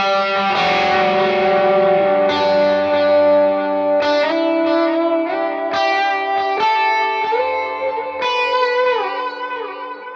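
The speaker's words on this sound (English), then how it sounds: "let me kick on some delay and reverb here" Sustained electric guitar lead notes with long echoing delay trails and a wash of reverb, ringing continuously and fairly loud.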